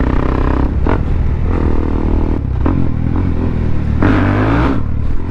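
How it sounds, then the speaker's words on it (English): A loud motorcycle rides through a tunnel, its engine droning steadily and close with shifting pitch, wind buffeting and a rev swell near the end. "This bike is loud, and even though I put a mic in my left pocket, it's so hard to keep the noise down."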